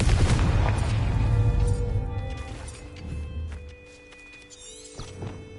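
The Confringo fire spell from Hogwarts Legacy bursts with a loud, rumbling explosion that slowly fades into lingering game effects and ringing tones.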